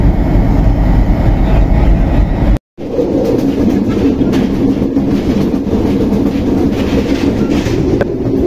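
Shimanta Express train with its locomotive rolling loudly nearby, a heavy rumble with rhythmic clickety-clack of wheels over rail joints, briefly cut off and then continuing steadily.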